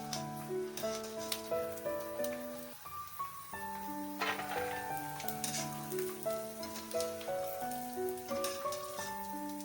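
Potatoes fry in a pan for a quick wet potato chivda, a soft continuous sizzle and crackle running throughout beneath louder tonal background music.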